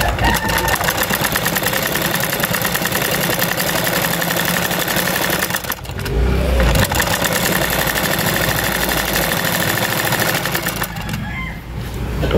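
Loud, rapid mechanical whirring of a sewing machine stitching fabric on a home-service repair job, running almost continuously with a brief pause near the middle and again at the end.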